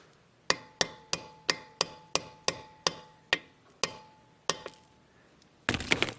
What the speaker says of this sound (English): I can hammer it back out just a little bit